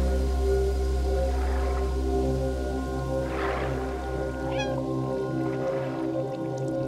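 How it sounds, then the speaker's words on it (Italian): A cat meows a few times in the video game Stray, inside a sewer built of pipes, over a steady low droning game soundtrack. "Non so se è una buona idea miagolare qui."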